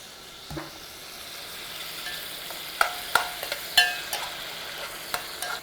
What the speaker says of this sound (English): So you have to stir until it gets cooked, completely cooked.